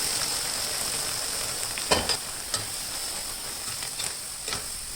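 Cooked horse gram stirred into spice paste in a pan, a steady close sizzle and hiss with a few soft scraping stirs of the spoon.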